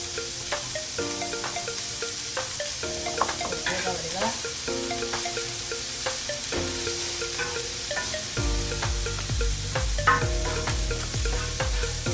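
Mutton kothu roti ingredients sauté in a pan with salt, a steady close sizzle with stirring scrapes throughout, over a low rumble and faint background tones.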